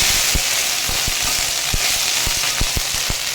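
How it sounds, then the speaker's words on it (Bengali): Cumin seeds fry in hot oil with a close, steady sizzling hiss broken by sharp irregular pops and crackles, no one talking. "তো আমি প্রথমে তেলে জিরে দিয়ে নিয়েছি।"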